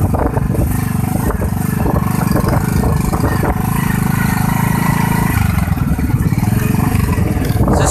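A motorbike engine hums steadily throughout while riding, a continuous mid-pitched drone with wind roar, loud and close, on a road trip near Tando Ghulam Ali.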